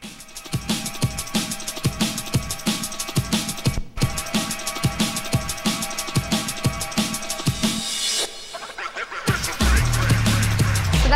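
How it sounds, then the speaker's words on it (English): A dance record's build-up plays from a DJ turntable: a driving four-on-the-floor beat with dense synth layers for about eight seconds, a brief dropout, then a rising swell and a low sustained bass entering at the end, with no talking. "So this build sounds like this."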